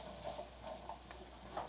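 Food being sautéed in a pan sizzles softly, with light stirring scrapes and patters coming in small irregular bursts, fairly faint and close, with no talk.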